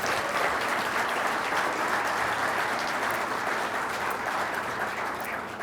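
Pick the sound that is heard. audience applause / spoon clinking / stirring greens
audience applause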